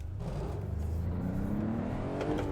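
A road car engine in a video game hums and revs at a steady moderate pitch near 3,000 RPM, rising slightly, sounding close to stalling, close and fairly loud, with no talking.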